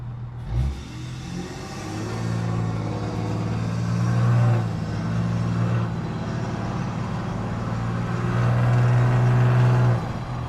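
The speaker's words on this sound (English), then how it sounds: "That truck sounds like ass." A truck engine on a road rumbles low and steady, swelling louder twice as it revs and labors, a close heavy drone that fills the whole stretch without talk.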